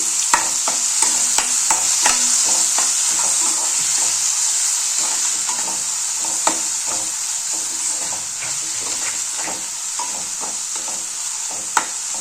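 Tomatoes and curry leaves frying in a pan give a steady, loud sizzle throughout, with scattered stirring clicks and scrapes against the pan and no talking.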